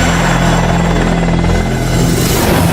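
A military helicopter flies close by, its steady, loud rotor and engine drone continuous and unbroken throughout, with no talking.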